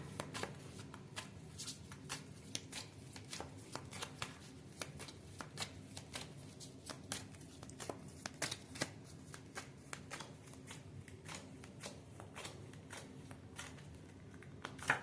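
A deck of oracle cards is handled and drawn from, giving a quiet, close run of rapid papery flicks and riffling snaps in uneven bursts with no talking.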